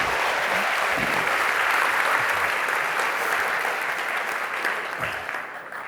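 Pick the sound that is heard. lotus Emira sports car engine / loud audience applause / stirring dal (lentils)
loud audience applause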